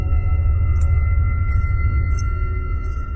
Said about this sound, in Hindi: ये तो पायल की आवाज है, जैसे लग रहा है कि कोई औरत पायल पहनकर अंदर घूम रही है।